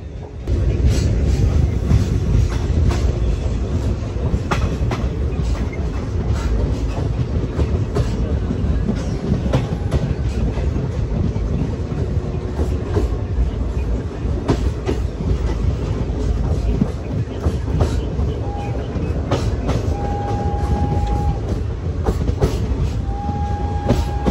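Salsar Express passenger train running between Delhi and Jodhpur, a steady loud rumble with clattering wheels and rail noise throughout, occasional squeal tones, no speech.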